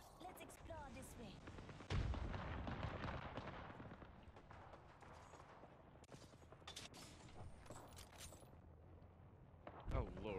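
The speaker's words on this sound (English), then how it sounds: "The enemies are shooting at me." Enemy gunfire in the Apex Legends video game crackles in scattered bursts and single shots at low level, with two sharper loud reports, while a player talks over the game audio.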